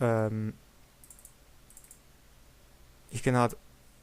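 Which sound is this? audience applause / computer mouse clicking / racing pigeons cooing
computer mouse clicking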